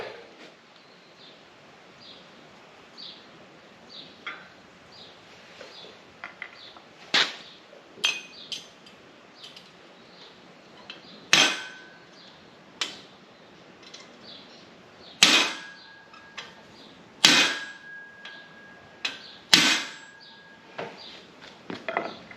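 A hammer taps on a new section being fitted to an International 1100 sickle mower, giving sharp metallic clinks: scattered light taps at first, then several louder, ringing strikes spaced a couple of seconds apart.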